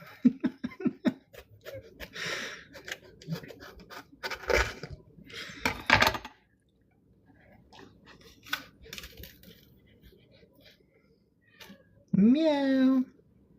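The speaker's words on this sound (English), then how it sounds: "I'm gonna get a noise complaint from all my neighbors about my cat." Cat meowing loudly once, a rising then falling drawn-out call near the end, after a stretch of people talking, clinking and scraping sounds.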